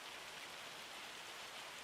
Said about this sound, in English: it's raining, so can't do much in the rain